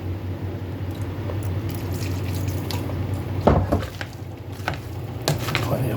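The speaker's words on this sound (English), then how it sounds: "can add a little more water." Water is poured into a pan of cooking food, a brief splash and liquid gurgle in the middle, followed by soft squishy stirring over a low kitchen hum.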